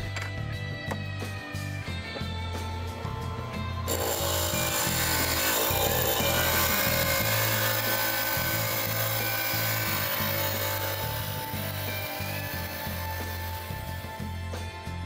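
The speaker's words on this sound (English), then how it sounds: "we have to grind all the edges so they're not sharp" Cut stained glass edges being ground smooth on a grinder, a steady continuous abrasive whirring and rubbing with a motor hum underneath, loud and close throughout.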